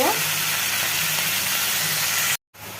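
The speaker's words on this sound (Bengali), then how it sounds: "পেঁয়াজ রসুন বাটা আমি একটু ভেজে নিব" Onion and garlic paste frying in a pan for a spiced eggplant pickle curry gives a steady close sizzling hiss that cuts off abruptly near the end, then resumes faintly.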